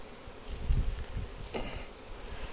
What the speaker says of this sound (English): Now you notice the bees, they're not stinging me